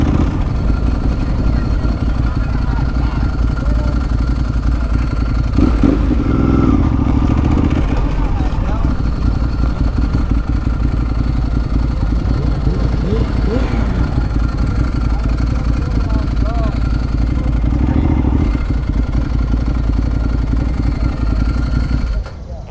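A Ducati 1098 motorcycle engine runs steadily at a car-and-coffee meet in Atlanta, a constant loud rumble with someone talking over it throughout.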